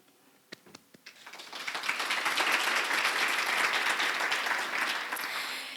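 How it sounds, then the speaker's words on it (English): A few isolated claps build quickly into sustained applause from a sizable crowd at an awards ceremony, holding steady before easing slightly at the end. "go ahead and applaud"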